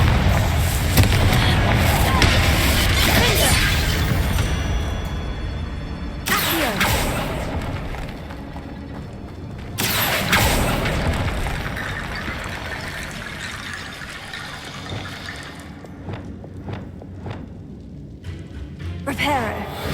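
A Confringo blasting curse explodes in Hogwarts Legacy: loud, booming blasts with crackling, rushing debris. A few big bursts arrive several seconds apart, and each one trails off into quieter rumbling.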